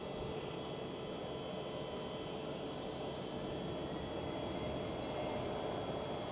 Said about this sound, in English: KLM City Hopper E175 taxiing by